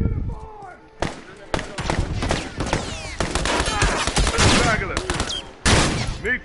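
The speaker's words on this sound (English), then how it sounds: "Of course somebody got a shotgun." Rapid bursts of gunfire, including heavy shotgun blasts, from a Last of Us multiplayer match, loud and repeated in dense volleys across the whole stretch with brief gaps, over game ambience.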